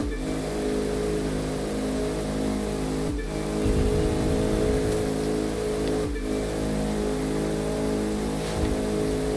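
A Bugatti Chiron's engine roars continuously in the racing game The Crew 2, a deep, steady drone with harmonic layers and brief dips as it shifts or lifts around seconds three and six, loud and without any talk.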